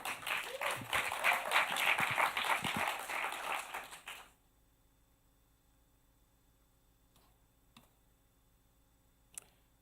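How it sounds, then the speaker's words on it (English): Audience applause fills a live-streamed event, a dense burst of clapping from many hands lasting about four seconds before cutting off, followed by near silence with a few faint clicks. "Round of applause."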